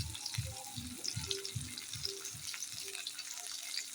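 Mango chutney frying with turmeric in a pan, a faint crackling sizzle over a rhythmic series of low soft thuds and bubbling pops, fairly quiet and without voices.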